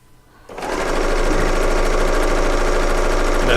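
A serger sewing machine runs through quilt pieces, a loud, fast, steady motorized chatter that kicks in after a brief quiet start and holds continuously.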